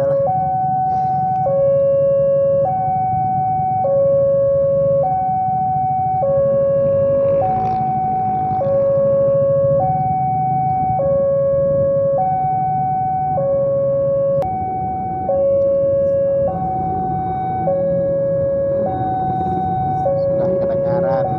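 A railway level crossing alarm at JPL 213 in Leles rings a steady two-tone electronic ding-dong, repeating evenly and loudly for the whole stretch, with faint rumbling of the approaching train in the background.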